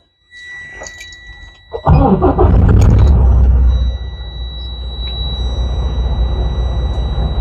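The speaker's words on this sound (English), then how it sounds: "So I'll do a safe start, make sure my truck's in neutral, my brakes applied." Semi truck diesel engine cranks and catches after a faint whine, roaring loudly for a couple of seconds before settling into a steady rumbling idle, close by with no talking.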